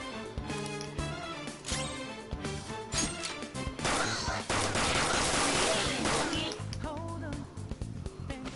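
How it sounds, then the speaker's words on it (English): Rapid gunfire crackles in Persona 5 Royal as a shot is fired at a shadow during battle, dense bursts mixed with crashing impacts and game music, loud and continuous through the stretch. "You have the gun with you, right? Point it at a shadow and fire."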